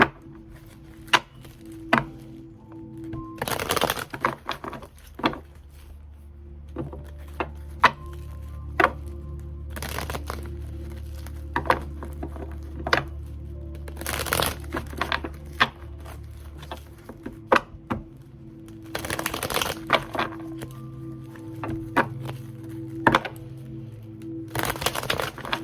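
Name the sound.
tarot cards being shuffled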